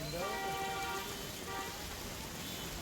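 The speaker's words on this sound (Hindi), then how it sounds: "तो अजमेर में लगातार बारिश का कहर देखने को मिल रहा है।" Heavy, continuous rain pours onto flooded streets in Ajmer, a dense steady hiss filling the scene, with faint vehicle tones beneath it.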